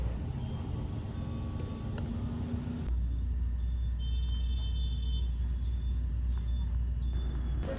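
Heavy evening road traffic in Vietnam, a continuous low rumble of engines and passing vehicles with an occasional air-brake hiss, heard steadily from inside or beside a bus.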